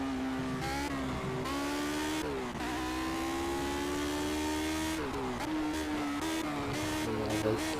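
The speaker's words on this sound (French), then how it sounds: "Ouais, ça patine encore à l'accélération là." A Lotus 78 race car on the Nürburgring spins its wheels under acceleration, the engine revving hard and steadily with shifting harmonic pitch and a brief dip and rise mid-run, loud and close with no talk.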